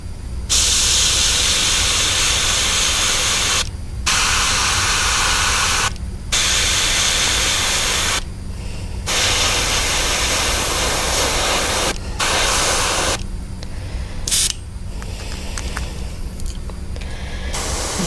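An airbrush sprays paint onto a Copes gray tree frog model with a loud, steady hiss of air, broken by several short pauses as the trigger is released, then resumed, with no talking.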